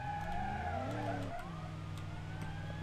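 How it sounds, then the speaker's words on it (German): A police siren wails far off in the BeamNG Drive driving game, rising and falling above the steady, close drone of a car engine that shifts pitch midway through. "Ich höre schon in der Distanz wieder eine weitere Sirene."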